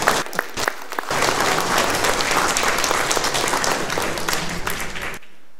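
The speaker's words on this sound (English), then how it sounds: "We'll give him a round of applause, folks." Church congregation at a Sunday family service breaking into a round of applause, dense, steady clapping from the whole room lasting several seconds before cutting off abruptly.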